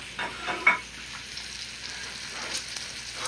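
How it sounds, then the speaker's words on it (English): A steak sears in a pan with a steady, soft hiss and crackle, and a brief clatter sounds near the start. "I'm gonna let that sit so the bottom part of that steak start cooking"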